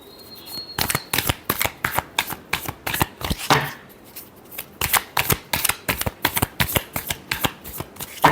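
Tarot cards being shuffled by hand, a close, rapid series of papery riffles and slaps in a steady rhythm, with a short pause midway and no talking.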